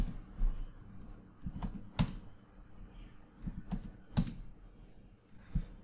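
Faint, sparse clicks and taps of keys being pressed on a computer keyboard, irregularly spaced in a quiet room.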